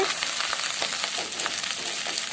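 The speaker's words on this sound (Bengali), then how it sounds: "লবঙ্গ ও 2টো তেজপাতা দিয়ে 30-40 সেকেন্ড নেড়ে নেব।" Cloves, cardamom pods and two bay leaves stirred in hot oil for veg fried rice, giving a steady, close broadband sizzle with faint scraping strokes throughout, no voices.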